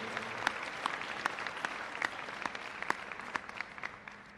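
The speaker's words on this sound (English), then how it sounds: "how about one more round of applause for our department leaders and educators" An audience at a high school scholarship and awards night claps steadily for several seconds, a fairly soft, even patter of many hands with a few sharper claps standing out.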